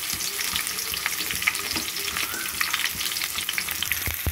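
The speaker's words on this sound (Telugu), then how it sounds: "ఇందులో ఉల్లిపాయలు వేసుకున్నాను, జీలకర్ర, ఆవాలు, మెంతులు, మినపప్పు వేసుకున్నాను" Onions, cumin, mustard seeds, fenugreek and urad dal fry in hot oil, giving a steady, close crackling sizzle with scattered sharp pops and occasional stirring.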